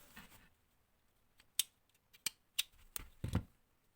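Scissors snip through yarn during crochet work on a small amigurumi pig; a handful of sharp, close, quiet cuts come at uneven intervals over near silence.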